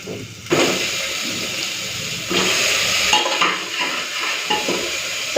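Chicken pieces frying on high flame in a pan with onion and garlic, a loud close sizzle with bursts of hissing and stirring scrapes rising and falling throughout.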